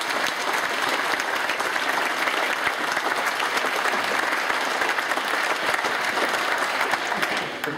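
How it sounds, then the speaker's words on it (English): Audience bursts into steady, energetic applause at a presentation, a dense continuous clatter of many hands, loud and sustained for several seconds without talk. "Let's give them another round of applause."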